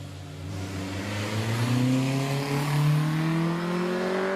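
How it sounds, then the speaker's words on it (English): A pretty little Brabham race car accelerating up the Prescott hill climb during a British Championship event, its engine note rising steadily in pitch as it pulls away, loud and continuous with no voices. "Meanwhile, Grant Cratchley in this very pretty little Brabham"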